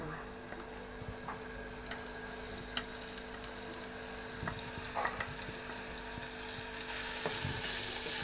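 Onion and garlic paste frying in a pan for chicken patties: a faint, steady sizzle with scattered small pops and crackles throughout, with no voices.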